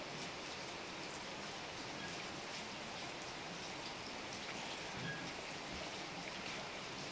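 Steady summer rainfall with a dense hiss of drops pattering on surfaces nearby, constant throughout with no talking.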